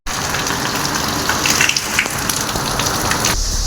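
Heavy rain pours down outside, a dense, steady hiss of drops that stays loud and unbroken throughout before cutting off abruptly.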